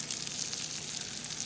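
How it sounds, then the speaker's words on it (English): Onions and about three tablespoons of honey sizzling and bubbling furiously in a hot pan, a steady bright crackle at moderate level with no break. "And you see it's boiling furiously."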